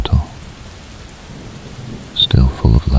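Steady rain hisses throughout, and deep thunder rumbles in a few heavy bursts near the end.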